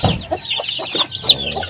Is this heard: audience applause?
no